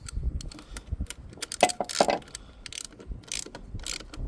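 A ratchet with a 15 mm socket tightens a bolt during a VW MK4 timing belt job, giving bursts of quick metallic clicks and clacks between short pauses, close and clear.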